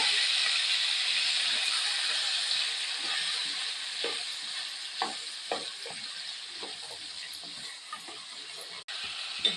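Chopped bottle gourd sizzles and hisses steadily in a hot pan while a spoon stirs and scrapes through it with repeated soft clinks, close up.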